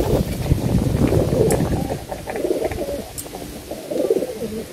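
Racing pigeons coo softly at the loft on arrival from a derby race, a few close, low murmuring calls over light wind noise.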